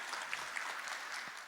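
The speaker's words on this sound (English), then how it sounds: "one big round of applause for Sudhish sir" Faint, distant applause from a school reunion gathering for an honored teacher, a brief steady patter of clapping.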